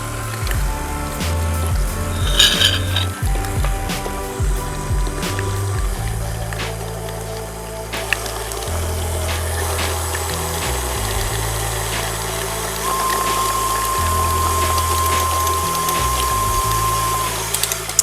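An electric mixer whirs through powdered sugar and salt in a home kitchen, a steady motorized hum with shifting pitch as the speed changes, running continuously and alone without talk.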